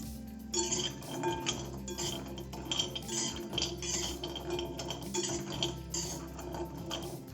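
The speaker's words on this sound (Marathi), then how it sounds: "चॉकलेटी खारीक आहेत हे कडक असतात ह्याला आपण भाजून घेऊया" Hard, chocolate-brown dried dates (kharik) roasting in a hot kadhai, rattling and clinking against the metal in a steady, close clatter as they are stirred, with no voices.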